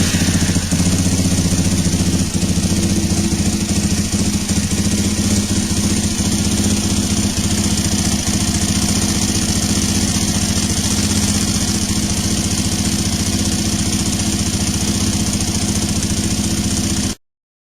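A Suzuki DRZ400 motorcycle engine, fitted with a manual cam chain tensioner, idles steadily on its own at close range. The loud, even mechanical hum runs unchanged throughout and cuts off abruptly at the end.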